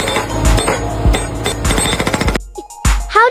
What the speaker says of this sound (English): It's a hydraulic breaker used to smash through tough concrete and rocks.